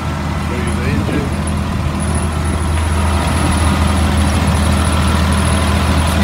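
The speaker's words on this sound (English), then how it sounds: "The motor sounds good, and it's been running for almost an hour." The engine of a 2003 Blue Bird All American 72-passenger school bus idles steadily with a loud, continuous low rumble and a faint high whine, with no break throughout.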